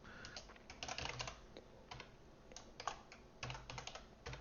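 Quick, uneven bursts of typing on a computer keyboard, close and fairly quiet, with rapid clicks broken by short pauses and no voice over them.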